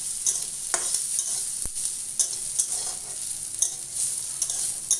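Oil sizzles and crackles steadily in a pan of pumpkin shoots, with occasional scraping clicks of stirring; no voices, just the continuous hiss of frying.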